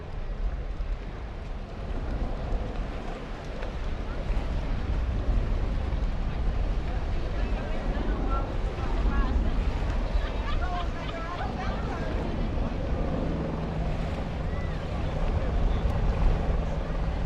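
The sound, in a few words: racing boats speeding on a lake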